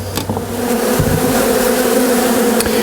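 Honeybees buzz loudly as their colony is removed from a wall, a close, steady droning hum with a few sharper knocks and bumps over it.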